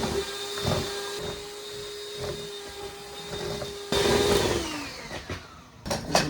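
An electric hand mixer beating blueberry buckle batter on medium-high speed, a steady whirring motor tone that drops in pitch as it winds down, with rattling beaters against the bowl.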